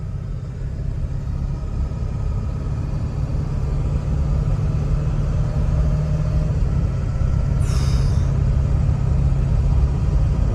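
A Ford Excursion engine idles steadily nearby, a constant low rumble that holds unchanged throughout with no talk over it.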